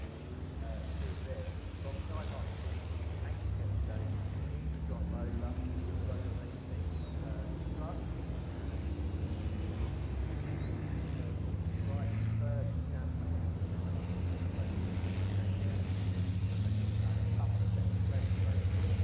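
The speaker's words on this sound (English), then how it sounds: "Seventeen trucks out there, one starting from the pit lane." Racing trucks circle Thruxton circuit on the green flag lap, a steady low engine drone with rising whines, heard at a distance while a commentator talks throughout.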